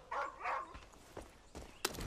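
Boomer, a dog in Far Cry 5, gives a few short whining barks that come through faintly, followed by soft scuffling and a sharp thump, with no one talking.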